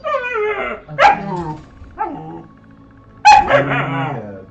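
Dog in the video game Hamlet giving a series of loud, close barks and yips, about four bursts separated by short gaps.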